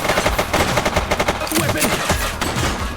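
Rapid gunfire in the video game The Precinct, loud, close bursts of automatic shots and overlapping cracks in a chaotic fusillade that runs continuously for about three seconds.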